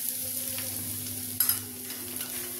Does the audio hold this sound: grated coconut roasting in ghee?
yes